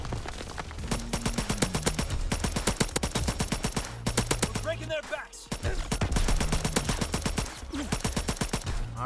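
Full-auto M2 carbine bursts in the video game Call of Duty WW2, rapid repeated gunfire in several long strings with short gaps, loud and close, with a voice briefly speaking between bursts.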